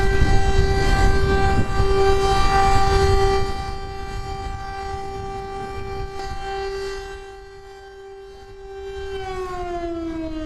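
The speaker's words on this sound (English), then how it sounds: "That's the air raid siren ending." A loud wailing air raid siren in Maidan Square, Kyiv, holds a steady tone, then fades and its pitch slides downward as it winds down near the end.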